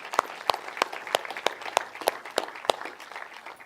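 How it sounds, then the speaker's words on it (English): Sparse graduation-ceremony clapping, with a few distinct hand claps in a slow, roughly even rhythm standing out over a faint background of quieter applause. "Round of applause."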